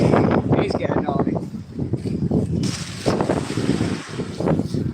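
Strong, gusty wind buffeting the microphone at a Norfolk fishing spot, rumbling continuously with rising and falling gusts under a voice talking throughout.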